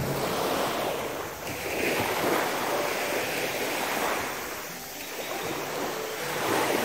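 Sea waves wash steadily onto the beach at Afissos in Pelion, Greece, in a continuous rolling surf with wind noise and no voices.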